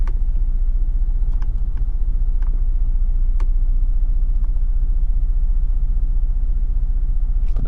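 A 2019 Kia Stinger GT1 rear-wheel-drive car accelerates, heard from inside as a loud, steady deep engine rumble and drone that fills the cabin throughout, with faint clicks over it and no talking.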